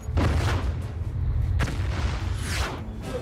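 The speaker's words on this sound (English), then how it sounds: "Torpedoes away." Submarine torpedoes launching from tubes as a movie sound effect: two loud, booming low-frequency bursts, the second following about a second and a half after the first, with a rushing hiss trailing each.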